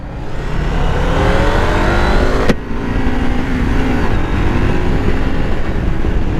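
A KTM street motorcycle at a demo ride pulls away hard, its engine note loud and close, climbing through revs with a brief gap at a shift before winding up again.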